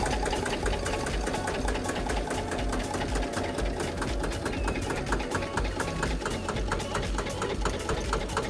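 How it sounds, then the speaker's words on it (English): A Porsche Diesel tractor engine idles nearby with a rapid, even knocking rhythm, loud and steady throughout. "That's the sound of a Porsche Diesel."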